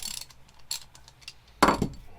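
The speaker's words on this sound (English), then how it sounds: "Get the wrench on this one." A wrench works a nut on a Slick Unison 4200 aircraft magneto, producing sparse metallic clicks and ratcheting ticks up close, ending in one sharper clank.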